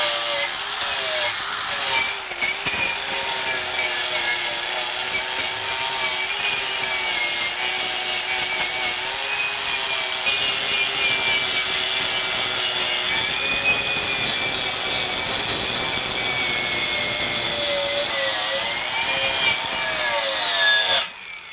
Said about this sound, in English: I'm going to go ahead and start wire wheeling, and I want the wire wheel to come off the edge here